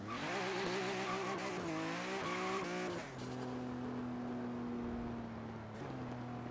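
A 2005 BMW M3 engine pulls hard in second gear, its note rising with strong harmonics and then stepping into a steadier drone, loud and close throughout.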